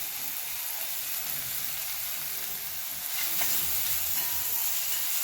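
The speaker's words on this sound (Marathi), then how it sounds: "याला देखील छान परतून घ्यायचं." Green chili and asafoetida sauté in oil, giving a soft, steady hiss of sizzling that swells a little in the second half, with no voices.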